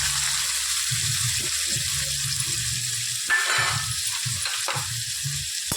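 Chopped onion sizzles in hot oil with mustard seeds and asafoetida for a soybean dry bhaji, a steady close crackle broken by a few scraping stirs, with no talk.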